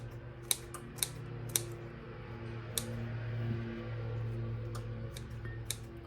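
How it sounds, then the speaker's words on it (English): A knife chops through already-cooked bacon on a board, giving a handful of sharp, irregularly spaced taps over a steady low background hum, with no talking. "I have some bacon here, already cooked, so I'm just going to cut it up"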